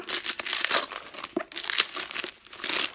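Wrapping paper crinkles and tears close by as a book is unwrapped, in a steady run of crisp, papery rustles and rips with no talking.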